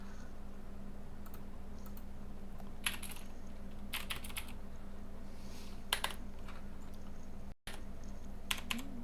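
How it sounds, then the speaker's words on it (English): Typing on a computer keyboard in irregular bursts of clicking keystrokes, close and clear over a steady low electrical hum, with a brief dropout near the end. "Oh, great, keyboard doesn't work now?"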